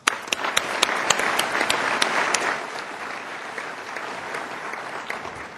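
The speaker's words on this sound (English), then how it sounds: "Please join me in applauding and thanking our panel" A conference audience at a financial outlook event applauding a panel, a dense burst of clapping that swells briefly and then tapers off into scattered claps.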